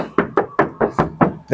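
Knuckles knocking on the body panel of a 2018 Toyota Commuter 3.0 van, seven close, even, hollow raps in quick succession, loud and near.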